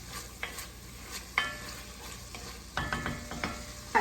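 Garlic and vegetables sizzle in a pot, a gentle steady frying hiss broken by several crisp spoon scrapes and taps against the pot.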